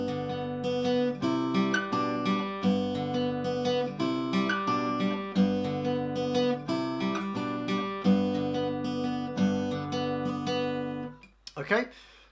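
An acoustic guitar plays the fingerpicked intro of a song, clear plucked notes in a steady flowing pattern close up, ending with a brief strum and fade.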